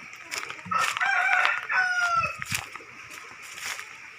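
Chickens cluck and a rooster crows in a backyard, several bright crowing calls over scattered clucks at close to moderate distance, with occasional background sounds.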